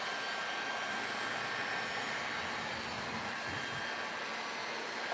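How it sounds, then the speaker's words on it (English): A heat gun blows steadily while drying freshly applied furniture paint, a continuous loud whooshing roar of hot air that holds unbroken, close by, with no talking. "So I don't recommend using a heat gun, but in a pinch, it works."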